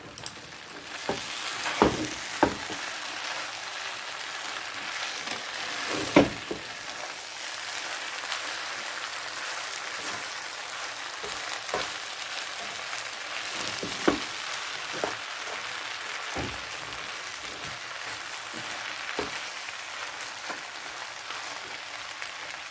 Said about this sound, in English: I will put the egg, fried egg.